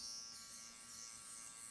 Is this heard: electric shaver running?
yes